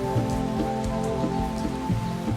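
Heavy rain pours down steadily in a park where chimpanzees sit out the downpour, a dense continuous hiss with occasional low thuds, no voices.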